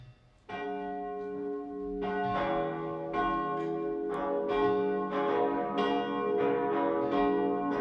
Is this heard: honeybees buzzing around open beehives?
no